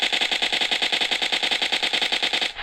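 UMP gunfire in PUBG Mobile Lite, a loud, rapid, evenly spaced automatic burst of about two and a half seconds that cuts off abruptly, with no talking.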